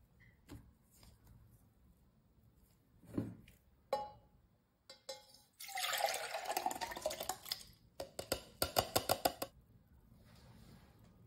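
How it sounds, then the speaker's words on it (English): A coffee mixture pours in a steady rush for a few seconds, followed by a quick series of clinking, dripping splashes into a milk pot; close by, no talking. "Then I pour the mixture into the milk pot."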